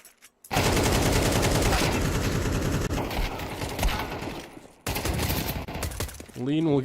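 USP pistols fire in a competitive esports shooter match, with dense, rapid overlapping shots that fill nearly the whole stretch loudly, broken by a brief pause before another burst.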